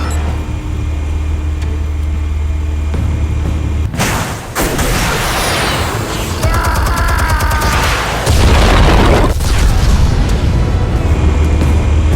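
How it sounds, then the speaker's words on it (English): Explosives detonate in Batman: The Telltale Series, with a low rumbling backdrop giving way to loud, crackling blasts and debris, then a sustained heavy roar that stays strong to the end. "Explosives armed. Fire when ready."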